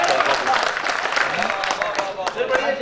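Enthusiastic audience applause at an All India Mushairah poetry recital at Khajur Masjid, Ujjain, a dense continuous clapping with a voice speaking over part of it.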